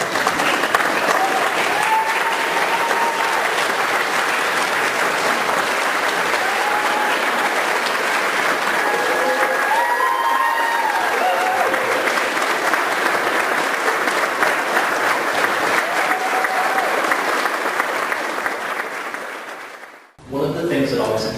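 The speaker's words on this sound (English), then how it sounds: "Can you give her a round of applause?" Sustained applause from a large audience at a college graduation ceremony fills the hall steadily for about twenty seconds before cutting off sharply.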